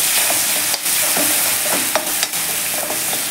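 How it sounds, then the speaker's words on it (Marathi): Garlic and green chili paste sautéing in a hot pan for a Maharashtrian patvadi and ras curry, a steady broadband sizzle with soft spoon scrapes and stirring clicks running throughout, close and clear with no talk. "आता आपण हे व्यवस्थित असं परतून घेऊया"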